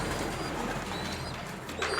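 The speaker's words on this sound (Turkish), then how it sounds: "Altta vızıklayan yavru." A pigeon chick squeaking from beneath a broody foster bird, a faint, continuous thin squeaking and cooing heard up close in a quiet coop.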